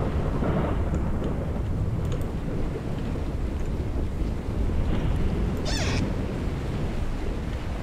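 Steady, dense hiss of heavy rain in the video game Pacify, with a low rumble underneath, continuous and unbroken throughout.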